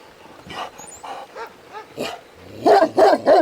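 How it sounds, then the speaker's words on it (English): A dog barks in a series of separate woofs, a few moderate ones followed by three louder, closer barks at the end, heard from outside along a running route. "This guy barks at me every single time."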